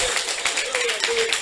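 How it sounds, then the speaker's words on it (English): An audience at an education event on blockchain and digitalization claps in a quick, rhythmic burst, with voices mixed into the clapping. "Before you go, I want us to clap."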